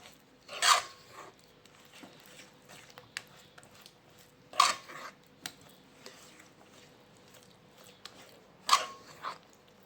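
A thick jaggery and flour mixture for mohanthal is stirred in a pan: three sharp, louder scraping strokes come about four seconds apart, with softer rasping scrapes between them and no speech.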